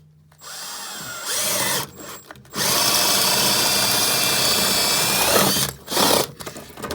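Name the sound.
power drill drilling underneath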